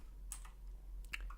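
A computer keyboard's arrow keys are tapped in a few quick, faint clicks, two small clusters of keystrokes close by in an otherwise quiet room.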